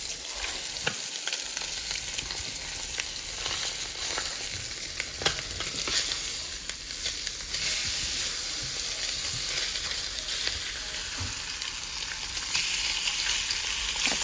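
Food sizzles and fries steadily in a pan on a full-size oven's stovetop in a vacation rental kitchen, a continuous crackling hiss with occasional sharper pops, fairly close and uninterrupted by talk.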